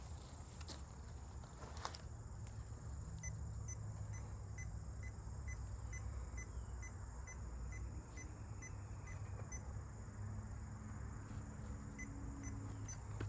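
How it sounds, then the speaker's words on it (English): A moisture meter used on firewood gives a steady series of faint, evenly spaced high beeps over a quiet outdoor background, with no talking. "I don't know why it's beeping."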